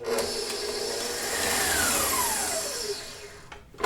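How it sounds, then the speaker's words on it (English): Stand mixer beating marshmallow whoopie pie filling with icing sugar, a steady loud whirring drone that rises and falls in pitch as the batter thickens, ending with a brief clatter. "We're going to give it another really good mix."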